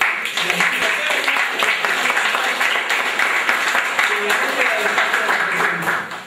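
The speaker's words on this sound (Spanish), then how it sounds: "yo sí le pido otra vez palmas para los compañeros" An audience at a youth-movement political round-table panel claps for the panelists, a sustained round of applause with voices cutting through, tapering off at the end.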